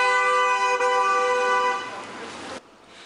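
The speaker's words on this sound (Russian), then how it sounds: "Проезжающие мимо, они охотно сигналят, поддерживая акцию молодой гвардии" Horns honked by cars passing a roadside protest against rising fuel prices, several overlapping sustained toots held loud and steady, then cutting off sharply, leaving quieter traffic noise.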